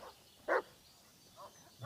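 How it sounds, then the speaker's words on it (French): Dog barking in the horror video game Blair Witch, heard as two or three short, fairly quiet barks spaced apart with no talk over them. "Parce qu'il fait que aboyer."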